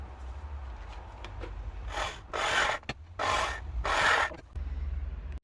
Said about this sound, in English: I'm using a very, very big drill for such a small job